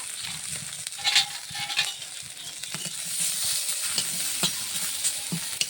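Dried puti fish sizzle as they fry in a pan, with a steady crackle broken by repeated light scrapes and clicks from stirring, close and moderately quiet.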